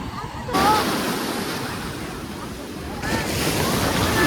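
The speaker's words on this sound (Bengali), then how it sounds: "বড় বড় ঢেউ আসছে দেখো একবার।" Big ocean waves at Puri beach roll in as steady broadband surf, swelling louder near the start and again toward the end, with wind buffeting the microphone and a faint voice in the background.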